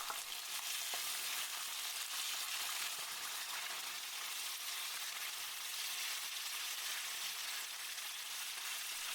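Chicken pieces sear in a hot pan for a sautéed chicken and almond dish, giving a dense, steady, loud sizzle that crackles without a break throughout.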